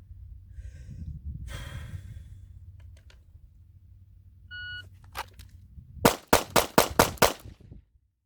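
Five quick pistol shots from a Ruger Max-9 fitted with a Galloway Precision short stroke trigger, loud and close in a rapid string at the end, after quieter handling, rustle and breathing, with a few electronic beeps beforehand.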